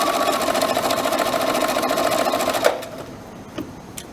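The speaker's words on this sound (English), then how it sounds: "start sewing, backstitch a little bit" Sewing machine stitching fabric, a fast steady mechanical whirr that runs close and loud, then stops abruptly, followed by a few light clicks.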